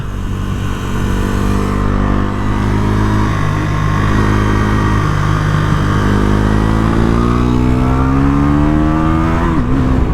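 A 2024 Bajaj Pulsar NS400Z motorcycle rides a lap on a race track, its engine a loud, steady, close drone that climbs in pitch toward the end as it accelerates.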